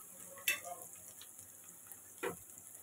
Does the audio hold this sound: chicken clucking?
no